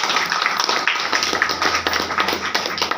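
An audience claps in a dense, continuous patter of many hands at a spiritual class in Narela, filling the whole stretch at moderate loudness without pause.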